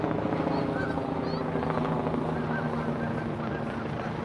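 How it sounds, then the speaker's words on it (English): A helicopter's steady, low rotor drone hangs overhead the whole time, a constant rumbling wash with no pauses. "we have a helicopter hovering over us."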